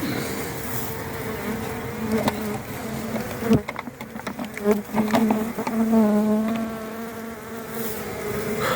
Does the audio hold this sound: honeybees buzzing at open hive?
yes